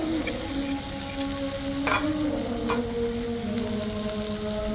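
Four pieces of fish fry in a pan on a gas stove with a continuous close sizzle and a few brief stirring scrapes, under a faint steady hum.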